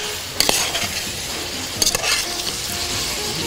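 Pork stew with mushrooms and Vera paprika sizzles steadily in a pan. Two brief scraping clinks from a stirring utensil come near the start and middle of the clip, with no talk.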